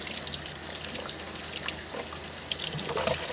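Water runs steadily from a tap into a sink while gone-to-seed produce is rinsed, a constant close hiss with faint splashes and clinks.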